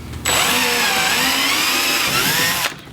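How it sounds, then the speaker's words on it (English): A power drill bores the third mounting hole for a YakAttack LeverLoc anchor trolley, running in one steady, close, high-pitched whine for about two and a half seconds with no other sounds. "I'm going to drill the 3rd hole."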